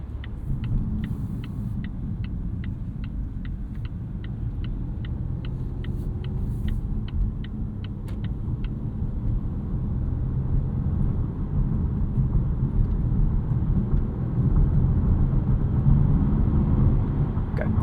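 A 2024 Volvo V60 Polestar hybrid wagon accelerating on a highway, a steady deep engine and road rumble that swells gradually louder, heard from inside the cabin with no talking.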